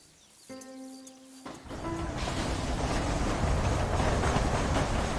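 Steam train riding in Red Dead Redemption: a short held whistle tone at the start, then a steady, loud rumble of rolling wagons and track noise that builds and continues to the end, with no talk.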